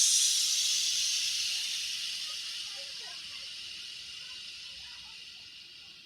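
A long, steady shh hiss made by children's voices imitating a steam train, slowly fading over several seconds.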